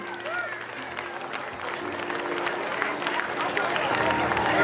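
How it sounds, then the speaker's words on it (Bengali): An audience claps loudly to welcome a guest onto the stage at a Bengali New Year (Poila Boishakh) gathering in Hyderabad; dense, steady applause fills the whole stretch with crowd noise and voices mixed in. "সবাই একটু জোরে হাততালি দিয়ে ওনাকে ওয়েলকাম করুন"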